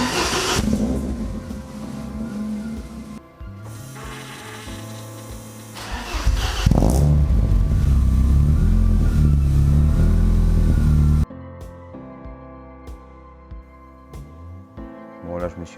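An engine on a Renault 5 RS80-era car cranks and catches, then settles into a steady idle with a few revs, close and loud, before cutting off to quieter shifting sounds; music or effects seem mixed in.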